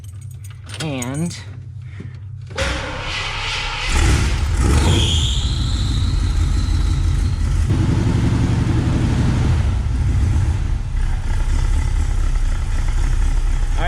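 Keys jangle before a cold Jeep engine cranks with the choke pulled and catches, settling into a loud, close, rough idle that runs steadily to the end while someone speaks briefly.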